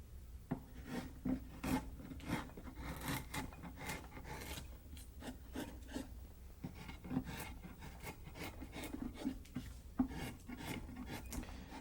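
A number 5 sweep gouge pares wood in a rapid series of soft, close scraping strokes, an irregular rhythmic rasp that goes on steadily at low volume.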